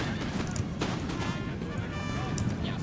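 Musket and rifle volleys crackle on a Pyramids battlefield in Napoleon Total War, a dense spread of sharp reports mixed with distant booms over continuous battle noise, with someone talking over it.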